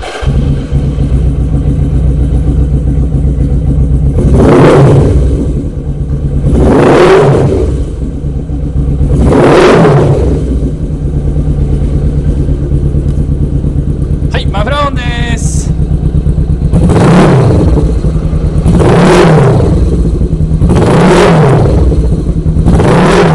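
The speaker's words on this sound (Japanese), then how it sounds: "エンジンの方始動していきたいと思います。" A Suzuki GS400 motorcycle with a chrome collector exhaust idles with a steady close rumble and is revved seven times in rising and falling bursts, with a brief mechanical rattle between revs.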